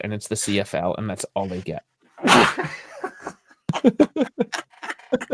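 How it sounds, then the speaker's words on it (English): A single loud sneeze bursts out in the middle of casual conversation, with people talking right before and after it. "I sneezed."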